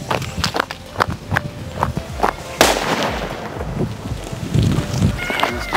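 Paper bomb firecrackers burst by day at a Sivakasi cracker test, sharp loud bangs repeating at intervals, with one bigger blast partway through and a crackling wash trailing after it.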